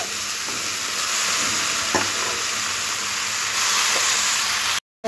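Thinly sliced bottle gourd tossed into a hot pan with potatoes and spices and stirred, giving a loud, steady sizzle with a few scraping strokes of the spatula. It breaks off abruptly at the end.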